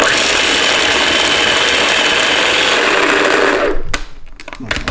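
Blender grinds basil pesto with lime juice, a loud continuous whirring motor that cuts off near the end, leaving brief clatter and quiet.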